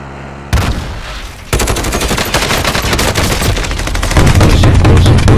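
Heavy automatic gunfire in Call of Duty Warzone, dense and loud, with rapid bursts that start after a brief quieter moment and continue almost unbroken, with deep booming impacts near the end.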